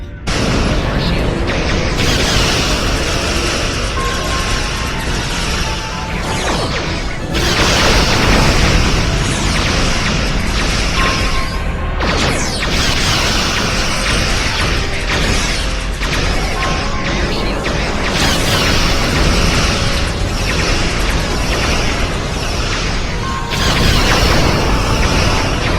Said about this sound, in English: lock tractor beam and fire everything we've got